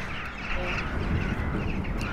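Large flock of geese-like birds gathered around a building at a quiet spot in Odense, a dense, continuous chorus of honking and quacking calls heard nearby with no talking.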